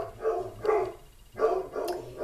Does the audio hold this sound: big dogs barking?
yes